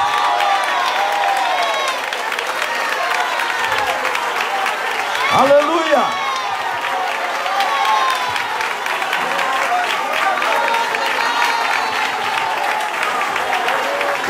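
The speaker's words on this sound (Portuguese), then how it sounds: "Agora quero ouvir palmas misturado com glória a Deus." A church congregation claps loudly and continuously, with voices shouting praise mixed into the dense applause and one voice calling out over it partway through.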